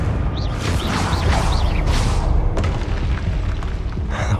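A Confringo spell explodes in the video game Hogwarts Legacy as a loud, dense rumbling boom with crackling debris and whooshing magical effects that fills the whole moment.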